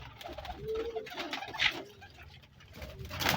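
Dabb-marked pigeons belonging to Ustad Mohammad Altaf in Sheikhupura coo softly and repeatedly at close range, their low murmuring calls filling a busy loft with faint background rustle.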